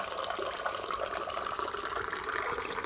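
Inside an apartment, a water dispenser pours a steady, continuous stream of water, close and fairly loud, with no talking.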